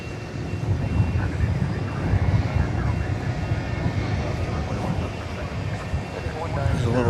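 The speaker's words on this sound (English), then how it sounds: "It's headed to London Heathrow. It's a Boeing 777-300 ER." A Boeing 777-300ER jet takes off from DFW bound for London Heathrow at night, a loud sustained engine roar with low rumble and wind buffeting throughout.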